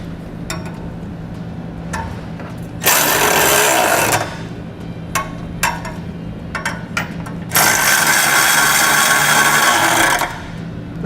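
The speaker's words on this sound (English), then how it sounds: "I'm going to come back with a 19mm socket, and I'm going to snug up all my hardware" A 19mm socket on a ratchet or impact tool snugs up hitch bolts while a trailer hitch receiver is installed on a 2015 Nissan Rogue, with two loud sustained mechanical bursts separated by quieter clicks and handling noises.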